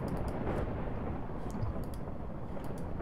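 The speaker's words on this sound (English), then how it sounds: "Lightning!" Video game thunder from a smite lightning strike rolls as a deep, continuous low rumble, loud and sustained for the whole stretch with faint crackles on top.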